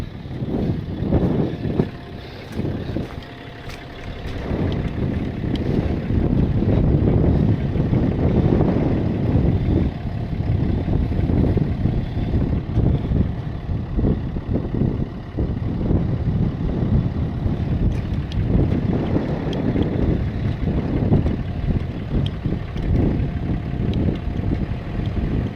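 A stuck vehicle's engine revs in reverse out in remote terrain, a loud, sustained rumbling roar with surging throttle and wind buffeting the microphone throughout.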